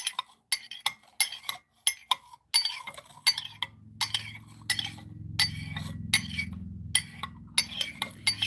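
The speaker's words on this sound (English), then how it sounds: "What I'm doing right now is I am just pushing the leaves back down into the base." Light clinks and taps of tea leaves being pushed down against a ceramic cup, irregular and close, with a low rumbling hum joining partway through.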